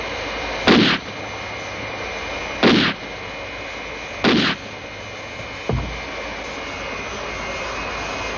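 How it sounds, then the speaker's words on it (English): Four heavy gunshots fired to blast through a lock in an adapted Captain Scarlet story, each a loud, close boom with a short tail, spaced about two seconds apart, the last one weaker, over a steady background rumble. "We'll have to shoot through the lock."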